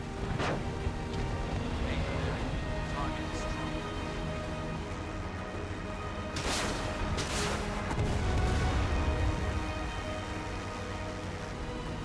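Rockets and bombs exploding in the IL-2 Korea flight game, dull booming blasts over a constant rumble of aircraft engine and crackle, with a couple of sharper bursts midway and a heavier roll near the end.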